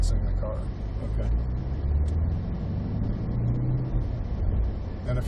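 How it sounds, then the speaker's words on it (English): A car engine and exhaust drone steadily with low rumble, rising slightly in intensity as the throttle opens, with a voice talking over it. "if you listen to the exhaust note, you'll be able to tell when I'm starting to get on the throttle"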